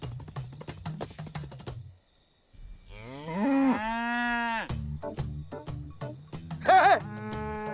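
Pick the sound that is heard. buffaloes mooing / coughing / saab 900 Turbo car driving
buffaloes mooing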